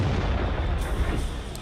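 A tank gun fires in a World of Tanks esports match, a heavy low boom with a rumbling blast tail filling the short moment, loud and dense.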